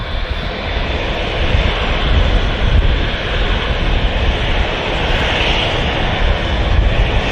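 A KLM Airbus A321 jet passes close and loud at Manchester Airport, a steady broadband engine roar with rushing air that swells slightly and holds for several seconds, no voices over it.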